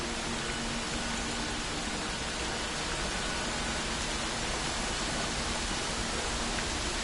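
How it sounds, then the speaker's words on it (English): Constant white-noise ambience from the video game Dear Esther, a dense, even hiss like distant wind or falling water that holds steady and unbroken throughout. "I'm sorry, it's all the white noise."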